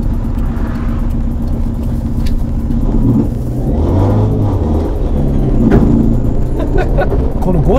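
A battery-electric conversion of a Toyota AE86 drives past as a loud rumbling road-car sound that swells and fades, with tonal whirring and voices talking over it.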